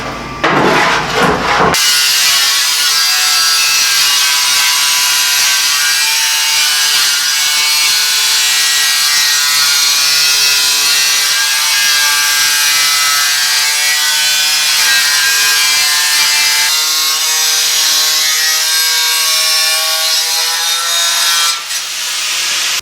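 Metal roof skin for a Model A hot rod shop truck, painted flat black over surface rust, being cut with a power tool: a loud, continuous grinding saw whine, close by, running steadily before cutting off near the end.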